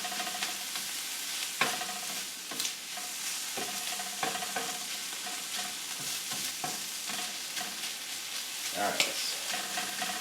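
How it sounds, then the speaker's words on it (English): Sauerkraut and corned beef frying and charring in a pan, giving a steady close sizzle with scattered scrapes and clicks as the food is stirred and moved around, no voices over it. "So my sauerkraut will get a little char on it, and my corned beef will get a little char on it."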